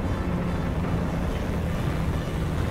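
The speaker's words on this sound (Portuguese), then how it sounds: "Eu consigo ouvir o barulho do motor dele, mas eu não faço ideia aonde ele tá." Steady low engine rumble of an enemy tank in the video game War Thunder, a constant droning hum with broadband noise, unbroken and moderately loud with no talk.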